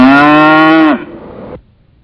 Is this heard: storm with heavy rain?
no